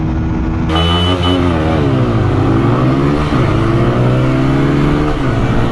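A TVS Apache RTR 160 4V and a KTM Duke 160 roar in a drag race, loud close engines revving hard and climbing through gears with rising and dipping pitch after a sudden start.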